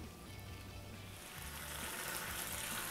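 Coconut milk boils hard in a pan while cooking avial, giving a soft, continuous bubbling sizzle that builds slightly and hisses steadily, heard close and alone.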